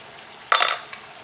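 Chicken cooks in a pan with a low steady sizzle, then a short burst of louder hissing and stirring scrape, close by and with no voices.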